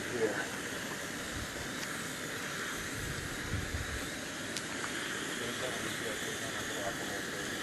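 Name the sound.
three camping stoves burning, including an alcohol stove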